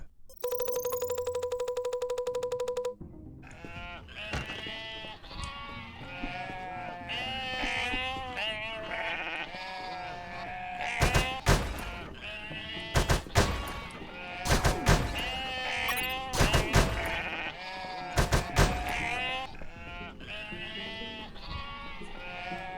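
Sheep bleating in the video game UnMetal, a crowd of wavering cartoonish bleats overlapping continuously after an opening electronic tone, with occasional sharp thuds breaking in.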